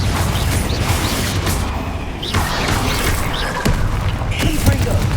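Confringo blasting curse explosion in a video game: dense, loud, continuous booming and crackling blasts with rumbling debris, filling the whole stretch without a break, with a shouted voice over the noise.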